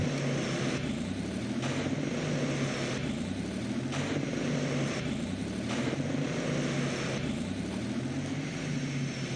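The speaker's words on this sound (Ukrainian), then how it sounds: "Пускач крутить, але він сам не заводиться." A virtual MTZ 3522 tractor in Farming Simulator 17 cranks on its starter motor without firing, a loud, steady mechanical whirr pulsing in an even repeating rhythm throughout.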